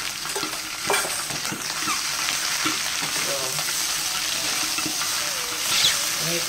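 Dried black mustard greens frying in a pan for tunyuk, with a soft, constant sizzle under repeated scraping and stirring strokes of a utensil, some stronger scrapes standing out.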